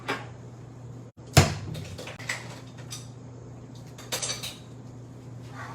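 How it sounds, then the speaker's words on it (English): Metal measuring spoons are pulled from a kitchen drawer: a sharp clatter of utensils, then scattered lighter clinks and a drawer sliding, close and fairly quiet. "I need to grab my measuring spoons"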